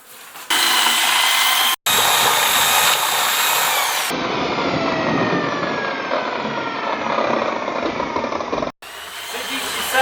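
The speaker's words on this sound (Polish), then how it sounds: "nalewamy wodę z wodociągu zimną, wiertarka." A power drill runs loudly and steadily with brief pauses, its whirring pitch shifting as it churns cold tap water into syrup in a bucket for bees.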